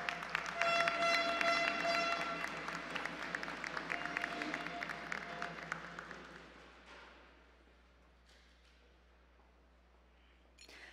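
An audience applauds loudly at a regional oratory contest medal ceremony, dense clapping sustained for about six seconds and then thinning into scattered claps and quiet.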